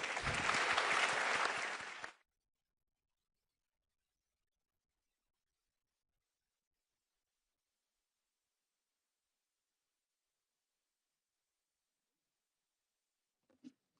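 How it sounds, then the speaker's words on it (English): Audience applause for a morning panel at a global progress summit in London, a loud dense burst of clapping lasting about two seconds before cutting off into silence, with a faint brief sound near the end. "can we have a round of applause, please?"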